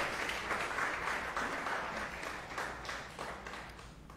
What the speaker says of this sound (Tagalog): The best kong palakpak para kay Jesus.